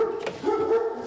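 A dog barks and yips close by in a short, tonal burst with a whimpering edge, heard on its own.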